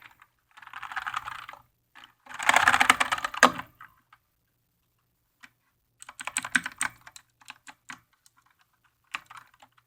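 Typing on a Redragon K551 mechanical keyboard comes in quick bursts of clacking keystrokes with short pauses between runs, close and fairly soft, with no talking.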